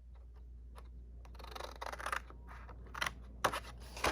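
Scissors snip through paper while cutting the corners of an exploding box craft project, several quiet crisp cuts in an irregular rhythm, close and faint.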